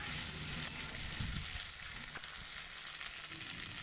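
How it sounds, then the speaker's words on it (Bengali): Peeled garlic fries in hot oil with bay leaf and cumin, giving a close, continuous crackling sizzle with a few soft stirring scrapes. "2-3 সেকেন্ড পরে খোসা ছাড়ানো রসুন দেব। একটু ভাজা ভাজা করে নিয়ে"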